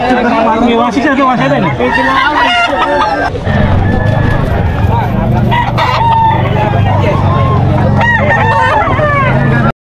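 Fighting roosters crow repeatedly and loudly close by at a pet market, overlapping one another, while several people talk and chatter underneath.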